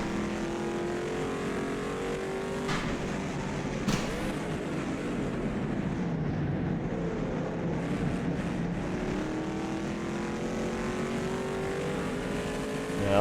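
A Shelby Daytona race car's engine in rFactor 2 drones along steadily with a handful of gear changes and rev swings, loud and continuous, with no talk over it.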